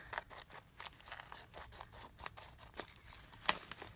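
Scissors snip through card stock stamped with a Hampton Arts design, a steady run of quick, close cutting strokes for a mini pocket letter with no talking.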